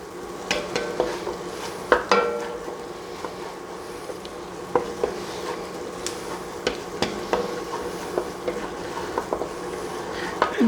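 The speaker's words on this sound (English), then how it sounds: "I'm going to throw our garlic in, give that a stir" Garlic stirred into a pot of bacon and onions for New England clam chowder, with scraping stir strokes and clanks at irregular intervals over a steady low sizzle, close and alone.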